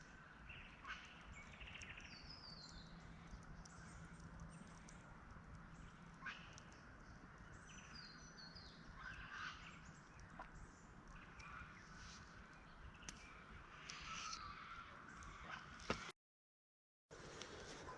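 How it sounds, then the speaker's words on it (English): Birds chirp and sing faintly in the distance over a steady outdoor hiss, with scattered short calls throughout, in the Australian bush at a campsite. "I'll just keep on listening to the birds sing."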